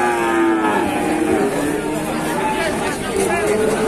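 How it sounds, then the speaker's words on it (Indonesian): Cattle low loudly and repeatedly at a village cattle market in Kandangan, Ngawi Regency, Indonesia. The drawn-out moos overlap a busy crowd murmur, and people talk nearby throughout. "Suasana pasar sapi"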